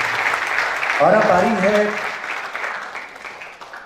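An audience at a university convocation medal ceremony applauds steadily, a moderate wash of clapping that swells briefly and then fades, while someone speaks over it.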